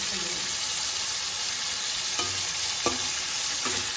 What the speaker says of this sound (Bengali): এই উল্টে পাল্টে ভেজে দেবো মাংস দিয়ে।